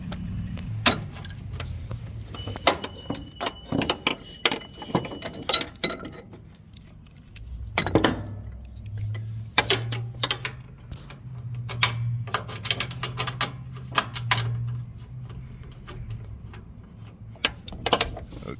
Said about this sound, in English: the next step will be to loosen our bolt for our belt keeper